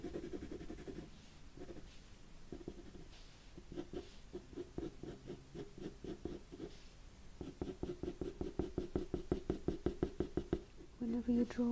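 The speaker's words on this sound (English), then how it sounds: "where you can still see that it's a pencil drawing" Pencil scratching, shading and blending on paper in an art tutorial, soft close strokes that speed into a quick rhythmic back-and-forth scribble near the end, quiet and intimate.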